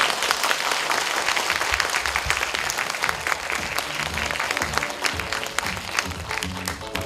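A large crowd at a Korean broadcaster's 50th-anniversary live show applauds loudly and steadily for several seconds, a thick continuous roar of many hands close by, with no talk over it.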